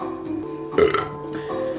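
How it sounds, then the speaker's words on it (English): A single short, throaty burp after eating a sloppy Joe, close to the mic and standing out from a quiet background. "Oh, that was a sloppy Joe burp."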